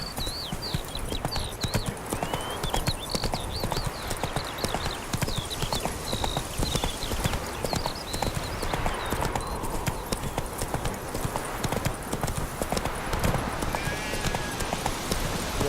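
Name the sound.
horse Roach trotting hooves, from video game The Witcher 3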